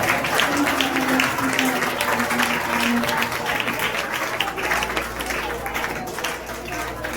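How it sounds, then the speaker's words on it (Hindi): Sustained applause from a large church congregation, dense and steady throughout, with a faint voice and low hum underneath. "तारीफ करें, ताली बजाएं उसकी।"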